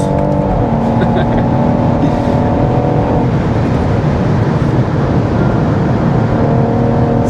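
A 500 bhp BMW M140i driven flat out around a race track, its engine roaring loud and constant with shifting pitch under hard acceleration and wind noise.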